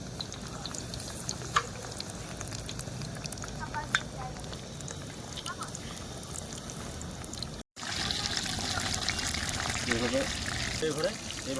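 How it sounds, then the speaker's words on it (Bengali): Shrimp and malabar spinach pakoras in gram-flour batter fry in hot oil with a continuous crackling sizzle, broken by one brief silent gap before the frying resumes a little louder. "পুঁইয়ের সেই চিংড়ি মাছগুলো করা ছিল, এগুলো ভেজে নিচ্ছি।"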